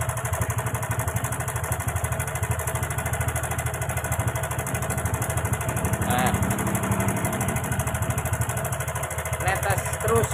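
A Honda Karisma motorcycle engine idling rough with fuel and oil leaking from the cylinder block, a steady loud pulsing rattle close by, with brief talk over it.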